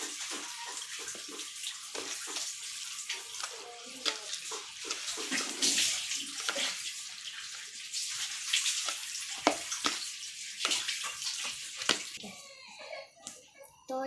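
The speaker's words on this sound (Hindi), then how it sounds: "थोड़ा सा पानी डाल लेना थोड़ा सा।" Water being poured into gram flour pakora batter and mixed by hand, a near, continuous splashing and sloshing with wet squelches, rising and falling in bursts, with brief voices in the background.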